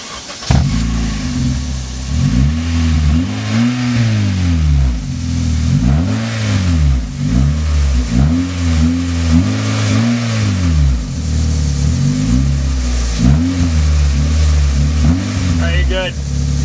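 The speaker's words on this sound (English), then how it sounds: "Go ahead and fire it up, Ayush." A 2014 Honda Civic with a modified, cut-down exhaust revs repeatedly up and down from idle, loud and close, in rising and falling sweeps with brief pauses between blips.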